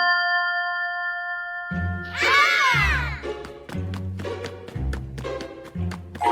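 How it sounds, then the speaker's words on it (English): A bright ding with a springy, wobbling sweep like a toy boing from a little toy box in a Peppa Pig cartoon, followed by playful tinkling taps and chimes over a light musical backing. "the box makes a cheerful boing sound"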